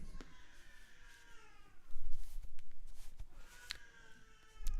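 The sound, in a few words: baby son screaming upstairs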